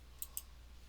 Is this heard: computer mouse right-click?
yes